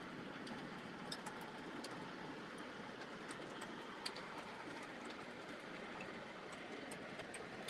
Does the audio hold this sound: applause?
no